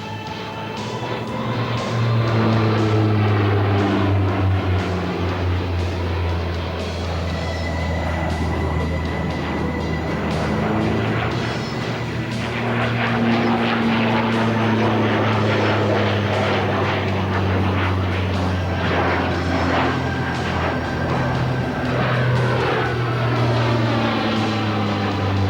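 A Valmet Redigo propeller trainer flies aerobatics, its engine droning loud and near with shifting pitch as it climbs, dives and turns, the whine rising and falling continuously.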